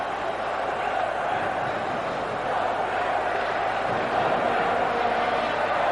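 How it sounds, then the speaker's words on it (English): Ice hockey arena crowd at the 1990 IIHF World Championship relegation game between West Germany and Norway roars steadily after a goal, a loud, dense, continuous wall of cheering that swells slightly toward the end. "This crowd is on its feet."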